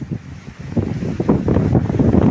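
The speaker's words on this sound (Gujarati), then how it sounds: "અત્યારે પવન ચાલુ થઈ ગયો છે ધીમે ધીમે થોડો વધારે પવન છે" Gusty wind over a papaya plantation rumbles against the microphone, rising and falling in low buffeting bursts that grow stronger toward the end.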